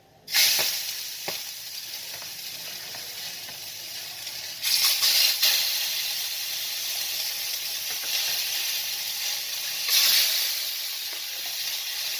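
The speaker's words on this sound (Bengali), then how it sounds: "সর্ষে তেল গরম হয়ে গেছে এটা তো এখন আমি মাছটা দেবো" Bhetki fish pieces hit hot mustard oil in a nonstick pan, bursting into loud sizzling that settles into a steady hiss, with fresh surges of frying as more pieces are added.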